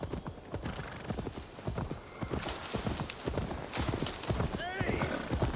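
Horse hooves clip-clop steadily at a walking pace in the Viking-era game Assassin's Creed Valhalla, close and fairly loud, with a brief whinny near the end and voices talking over the hoofbeats.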